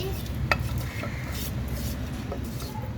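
Two kids stirring food together in a cooking pan while making chicken biryani, a steady scraping and stirring texture with a faint sizzle throughout, one sharper clink near the start, no talking.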